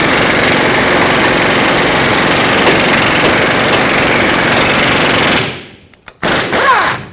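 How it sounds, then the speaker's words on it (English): Steady, loud mechanical grinding and hammering as a press forces the rearward bushing out of a Chevrolet Colorado lower control arm, running continuously for several seconds before cutting off into brief quiet and a few short knocks. "So let's push this bushing out going forward."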